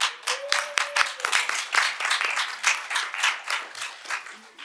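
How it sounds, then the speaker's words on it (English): A modest meeting audience at a December 2024 work session gives a round of applause to calendar committee members, with distinct, fairly close individual claps blending into rhythmic clapping that swells and eases slightly. "could you please stand and receive a round of applause?"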